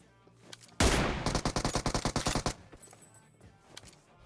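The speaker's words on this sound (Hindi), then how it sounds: "यहाँ पे मैं कोशिश कर रहा हूँ स्नाइपिंग करने की" Rapid gunfire in a first-person shooter as a player tries to snipe the last member of an enemy squad, fired through a sniper fitted with a holo sight: one sharp loud blast followed by a fast train of about a dozen shots, then quieter background.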